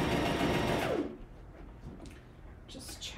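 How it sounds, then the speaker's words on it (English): A sewing machine stitches bias-cut fabric with a loud, steady whirring hum for about a second, then stops; soft handling rustles and light clicks follow, while a person speaks over the scene. "you wanna make sure that you're not stretching the fabric while you're sewing it"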